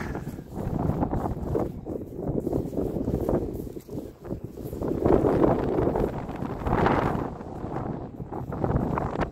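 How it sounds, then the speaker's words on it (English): Wind buffets the microphone in rough, uneven gusts on Castle Hill in Mere, Wiltshire, swelling louder midway, a steady blustery rumble outdoors on the hilltop. "We're getting a bit windy up here now,"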